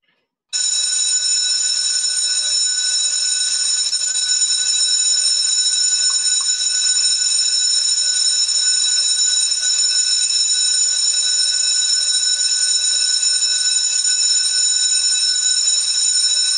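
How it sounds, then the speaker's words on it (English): Division bells ring in a city council chamber, a continuous, loud electric bell tone that starts abruptly and holds steadily without pause, with no talking over it. "please ring the bells"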